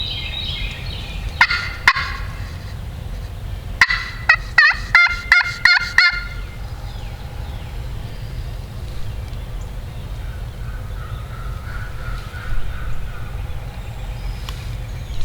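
A wild tom turkey gobbles repeatedly during a Virginia spring turkey hunt on public land, with several sharp rattling bursts carrying over a quiet outdoor background from a moderate distance.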